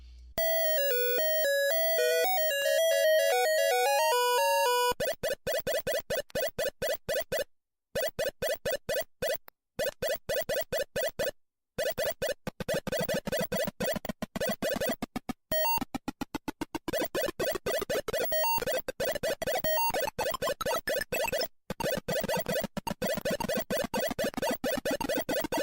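Chirpy, beeping retro video game sound effects from an improved Pac-Man-era home port: a quick electronic jingle followed by a long stretch of rapid, buzzy bleeps with brief gaps, steady and fairly loud with no talking.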